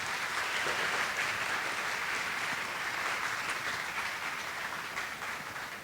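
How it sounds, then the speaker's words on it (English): An audience at a university math fair applauding as a dean of faculty walks onto the stage: thick, sustained clapping from a large crowd at an even level that tapers slightly toward the end. "I would like you to give him the warmest round of applause that you can"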